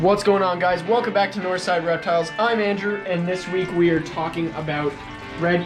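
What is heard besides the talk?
No distinct noise like a dog, phone or traffic.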